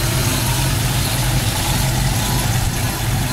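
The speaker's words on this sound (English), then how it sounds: "It's powered by a great running 289 four-barrel engine." A rust-free 1968 Ford Mustang with a 289 four-barrel V8 idles steadily up close, a loud, even low rumble with a continuous throbbing pulse and no voices over it.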